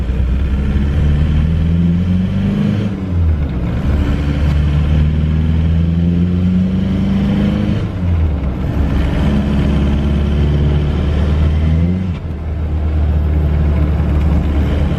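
A Toyota with a swapped-in TDI diesel engine and a slipping clutch accelerates hard, its loud rumbling engine rising in pitch through several pulls, then dropping between shifts, heard from inside the vehicle.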